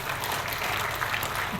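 A church congregation claps during a sermon, giving a short, steady burst of applause that fills the room at moderate loudness.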